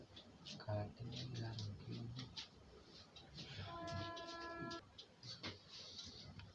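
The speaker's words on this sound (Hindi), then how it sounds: "ट्रेन निकल जाने दो, आ रही है" A train approaches and passes at a distance, its horn sounding briefly in the middle while people talk over the faint rumble.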